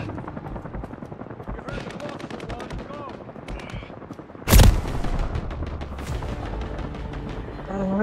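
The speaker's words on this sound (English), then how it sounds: "Someone's shooting at me." Gunfire rattles through an Apex Legends ranked match: rapid automatic bursts, with one sudden loud blast midway, then continued shooting, all mixed with game noise and a talking voice.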